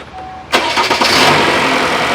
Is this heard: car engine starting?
yes